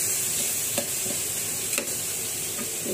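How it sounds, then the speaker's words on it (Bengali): Leafy greens are stir-fried in a pan, giving a steady close sizzle broken by a few soft scrapes and stirs of the utensil, with no voices. "শাক ভাজাটা হয়ে গেছে"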